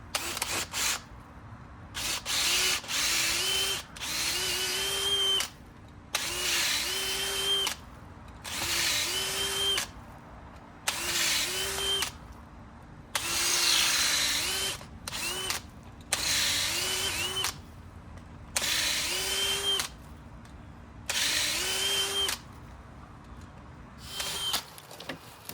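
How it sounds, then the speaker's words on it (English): Power drill boring holes into a pepper tree stump outdoors, about a dozen close, loud whirring bursts of a second or two each, separated by short pauses, with a faint steady hum underneath. "now we are back out and simply going to drill holes. All right, so let's drill a couple in here."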